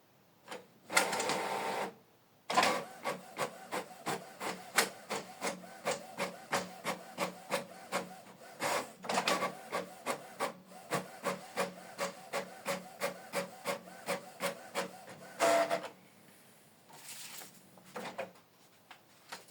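A Canon printer prints a single-page black-and-white document, its mechanism clattering in a steady run of regular close-up clicks and whirs, with brief pauses and a louder feed burst near the end.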